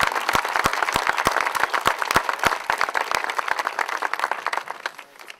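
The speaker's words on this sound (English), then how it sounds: "let's begin this dedication ceremony by giving a round of applause to the people that made this" Applause at an outdoor bear statue dedication ceremony: a small crowd claps in loud, irregular, crisp individual claps that continue steadily and fade slightly toward the end, with no talking.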